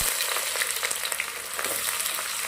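Dried red chillies and thin-sliced dried onion fry in hot oil alongside cloves, giving a steady, close, dense crackling sizzle with faint stirring and no talk.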